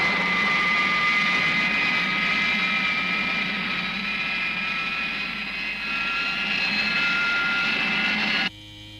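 A jet aircraft flies overhead, a steady, loud, high-pitched whine with a broad roar beneath, holding constant before cutting off abruptly near the end.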